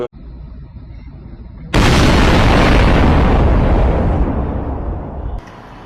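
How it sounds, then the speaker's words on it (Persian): A sudden massive explosion from burning shipping containers erupts into a sustained roaring blast that rumbles loudly for several seconds before cutting down, after a low background hum. "هر از گاهی اون انفجارهایی که رخ میده مربوط هست به اون کانتینرهایی"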